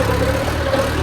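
A vehicle engine, likely an idling tractor or farm machine held at low revs and left to pull on its own, runs as a steady close drone with a constant low hum and no voices.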